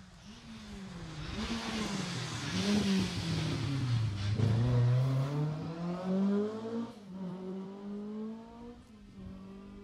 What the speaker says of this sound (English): So I think that was car 16, Lyndon Barton, Simon Hunter.